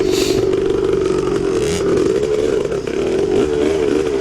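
A 1974 Yamaha MX360 vintage motocross bike revs hard during a vintage cross-country race, its two-stroke engine droning loud and close throughout, pitch wavering slightly as the throttle is worked.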